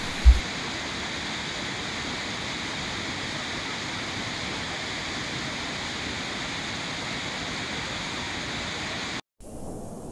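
A river waterfall gushes in a steady, loud roar of broadband rushing noise, unbroken for about nine seconds before cutting off abruptly, with no voices.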